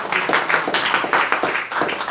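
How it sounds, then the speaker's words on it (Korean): A church congregation at a Sunday morning service claps together in quick, uneven bursts, a short spell of close, fairly loud hand clapping. "박수로."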